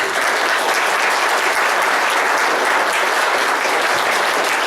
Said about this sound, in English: a big round of applause to all of our candidates